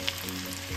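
Garlic sizzling in hot oil as a tempering for chole, a steady soft frying hiss over a low hum, with no voices.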